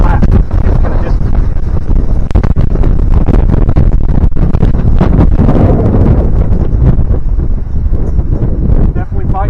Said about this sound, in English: Definitely fighting the wind.